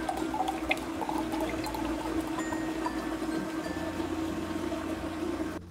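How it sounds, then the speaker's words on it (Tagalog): Pork hamonado simmers in a pot on the stove with a steady low bubbling and watery burble, soft and continuous with no voices. "Hayaan natin kumulo hanggang lumambot na yung karne."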